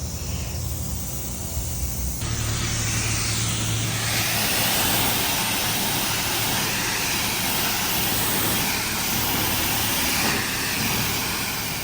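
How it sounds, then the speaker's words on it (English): Automatic car wash brushes run on a crew cab Buick, a loud, steady broadband roar and whir filling the whole stretch with no pauses, heard up close from inside the vehicle. "This car wash consistently pisses me off."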